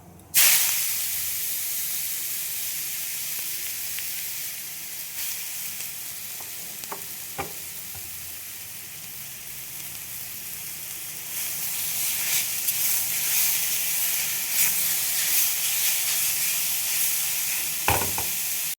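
Grated raw papaya hits hot oil tempered with nigella seeds and green chilli, giving a loud, steady, close hissing sizzle that holds for the whole stretch, with a few faint utensil taps and no talking.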